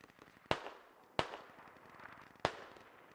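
Three sharp grenade blasts burst in a video-game battle, spaced about a second apart, each a loud crack trailing off into a short rumbling decay, with no talking over them.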